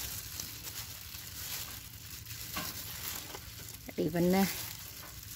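Scallion kimchi being stirred and turned in a pan, a steady soft sizzling and scraping texture running throughout at moderate level, with a voice briefly speaking near the end.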